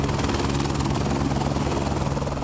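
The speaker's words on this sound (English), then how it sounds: "about to get on a helicopter with a biologist hired by the mining company" A helicopter in flight carrying a biologist on an aerial survey, heard from close up as a loud continuous rotor chop and engine drone, with a steady rapid beat throughout.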